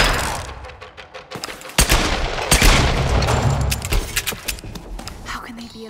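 Gunfire from Tomb Raider (2013) rings out in a fight against zombie-like enemies: several sharp, loud shots and bursts over a continuous game soundscape, with someone talking over the action.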